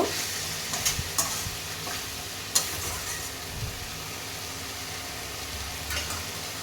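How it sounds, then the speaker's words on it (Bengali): Spice paste for Bengali rohu fish kalia, loosened with a little water, being stir-fried in a pan: a steady low sizzle with occasional sharp spoon clicks and scrapes, close and without voices. "সামান্য পরিমাণে একটু জল দিয়ে দিয়েছি যাতে মশলাটা না জ্বলে যায় এবার ভালো করে কষিয়ে নেব"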